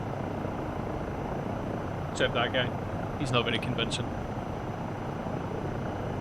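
Eurocopter EC135 helicopter in the flight sim MSFS 2024, a steady broadband rotor and turbine drone running throughout under a voice talking.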